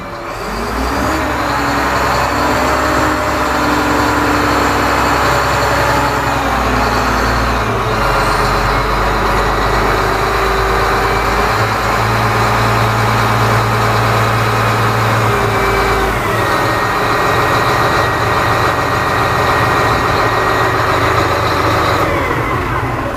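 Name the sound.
Cummins engine idling on a Godzilla 5500W loader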